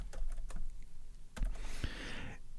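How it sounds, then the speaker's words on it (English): A computer keyboard being typed on while entering a formula into a spreadsheet, with a few quick close clicks followed by a brief burst of rapid keystrokes, and no voices. "we will hit the equal sign and we'll type time value"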